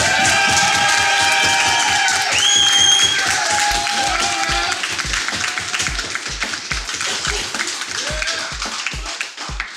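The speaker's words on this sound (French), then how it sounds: "faites un tonnerre d'applaudissements pour Yann Thériault" An audience claps and cheers for comedian Yan Thériault, with excited shouts and whoops over dense applause that thins into rhythmic, evenly spaced clapping in time near the end.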